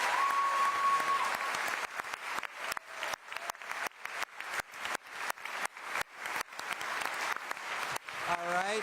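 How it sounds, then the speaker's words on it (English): At a mayoral debate, an audience claps in a series of sharp, rhythmic bursts, a rapid stream of distinct claps after an initial dense applause that carries a faint steady tone. "Let's give another round of applause for our candidates."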